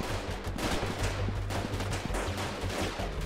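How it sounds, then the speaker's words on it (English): Continuous rapid gunfire crackles throughout in the video game Freeman: Guerrilla Warfare, dense bursts of shots blending together like a firefight at some distance, with a low rumble underneath. "I can hear gunfire, I can't see where it's coming from."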